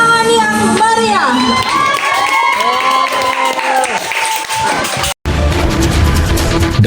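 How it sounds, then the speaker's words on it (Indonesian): An audience at a Sendratasik dance-drama performance of the Sri Tanjung and Sidopekso story cheers and applauds loudly. Shouting voices and whoops rise over continuous clapping, and the crowd noise cuts out briefly near the end. "Beri tepuk tangan yang meriah."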